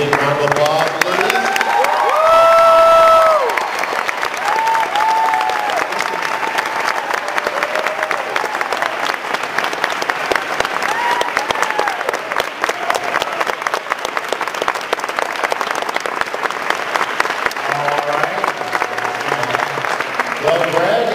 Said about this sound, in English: Everybody give a big round of applause, please.